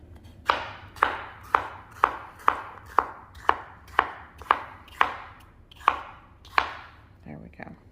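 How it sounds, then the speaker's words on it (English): Knife slicing deseeded food on a cutting board, about a dozen sharp, evenly spaced chops close by, each thud ringing briefly, followed by a light rustle at the end. "So I'm going to just take the seeds out and just slice it up."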